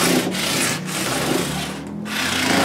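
Guitar frets on a Telecaster are sanded with 400 grit abrasive in close, steady back-and-forth rubbing strokes, with brief pauses between passes and no talking.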